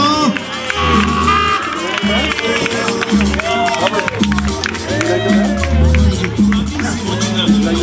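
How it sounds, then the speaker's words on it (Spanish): Spectators at a lucha libre wrestling show in Anaheim cheer and applaud loudly. The crowd noise is dense and continuous, with an announcer talking over it and music and shouts in the mix. "que se escuche fuerte el aplauso"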